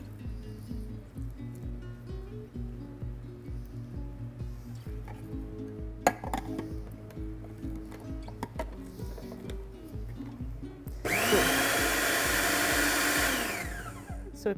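A food processor blitzes peeled garlic into paste, a loud steady whirring burst near the end after quieter clinks and kitchen clatter.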